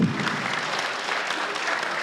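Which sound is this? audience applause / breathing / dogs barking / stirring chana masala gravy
audience applause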